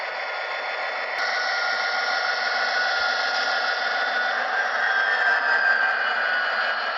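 A Broadway Limited Imports SD40-2 N scale model locomotive hums with a steady synthetic diesel engine drone running at constant speed, its pitch wavering slightly as the simulated RPMs shift.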